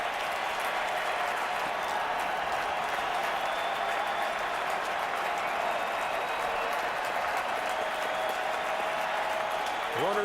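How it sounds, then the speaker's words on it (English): A standing-room-only crowd at a 2010 Yankees–Twins playoff baseball game roars steadily and loudly throughout, a dense continuous wash of cheering and applause with no breaks. "This standing room only crowd is absolutely roaring"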